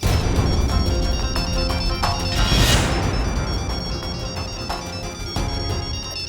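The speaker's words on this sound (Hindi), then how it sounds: "क्यों फोन कर रहे हैं?" A phone ringtone plays loudly, a repeating electronic melody with steady tonal notes, with no speech over it.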